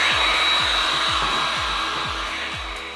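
A heat gun blows a loud, steady whooshing hiss up close while warming vinyl wrap on the grille of a BMW M235i F22 2 Series, with a regular low pulsing underneath as the hum slowly fades a little.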